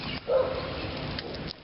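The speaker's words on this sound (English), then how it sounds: "There's a dog." A dog barks a single time at moderate distance outdoors, where beehives are being cleaned in spring, with faint background noise and no voices.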